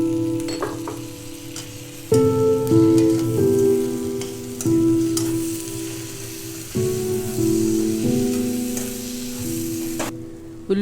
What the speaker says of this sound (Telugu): ఉల్లిపాయ, అల్లం వెల్లుల్లిపాయ పేస్ట్ బాగా వేగింది.